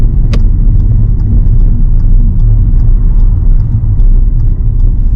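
Car interior with steady low engine and road rumble as the vehicle slows in first gear approaching a roundabout in the UK, a continuous loud drone with a faint tick of the indicator.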